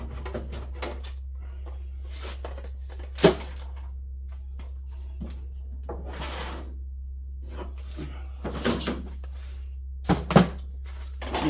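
A tool storage drawer added to a Milwaukee tool chest slides out with several clunks and rattles spread across the stretch, loud and close over a steady low hum, with no talking.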